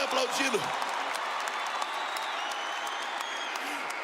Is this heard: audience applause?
yes